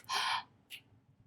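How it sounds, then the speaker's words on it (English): Two quick breaths from an oboe player practicing rhythmic breathing: a sharp, strong inhale followed by a shorter, softer puff, close and alone. "You can practice your exhale, inhale just like an 8th note rhythm."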